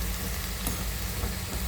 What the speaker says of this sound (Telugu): ఆనియన్స్ అయితే ఫ్రై అయిపోయాయి.